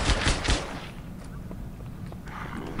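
Bursts of gunfire from a weapon in the Halo SPV3 game, a few sharp shots up front, then quieter scattered reports under a steady background, fairly loud and close.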